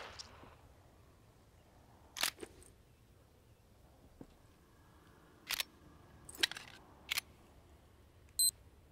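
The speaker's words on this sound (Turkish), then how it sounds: "Bu arada saatimiz çalıyor." Short electronic beeps from a wristwatch alarm in The Walking Dead: Saints & Sinners game, several brief bursts spaced apart over a quiet background with faint clicks.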